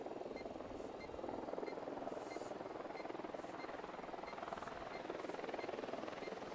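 A helicopter in the Ghost Recon Wildlands video game flies on patrol, its steady droning hum holding at a constant, fairly loud level throughout without breaks.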